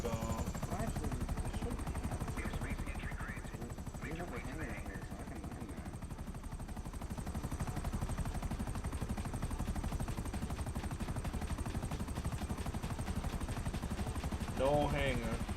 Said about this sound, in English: Flying in a helicopter.